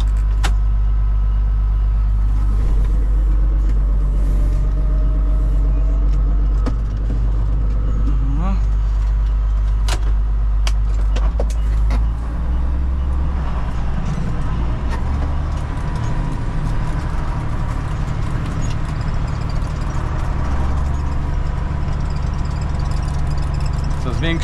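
A farm tractor rolls across a field at about 8 km/h while spreading fertilizer on wheat, barley and rapeseed, its steady low engine drone and rattling continuous throughout, with occasional clanks and people talking nearby.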